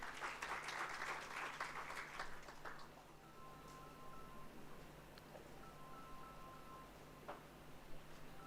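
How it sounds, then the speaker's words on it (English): Audience applause for a poster prize winner at a medical education event on pediatric cancers, a short burst of clapping that fades within a few seconds, leaving quiet room noise with a faint electronic hum. "Please give a big round of applause."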